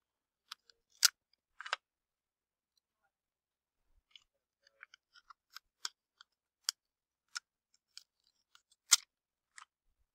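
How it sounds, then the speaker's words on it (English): A scissors cut a paper piece in half during a half-life demonstration, giving sparse, crisp snips and small paper crackles scattered over about ten quiet seconds. "We're cutting this piece in half right here."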